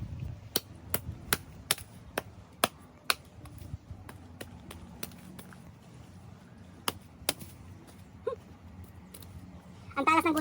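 Sharp, distinct thwacks of a machete chopping wood outdoors ring out in an irregular rhythm, about a dozen strikes, some loud and some lighter, with quiet pauses between them.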